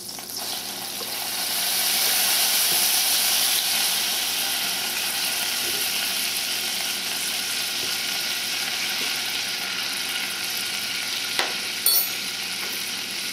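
Margarine melts in a pan with a soft, even sizzle that swells early and then settles. A few sharp clicks and a scrape come near the end as flour goes in, and no one speaks.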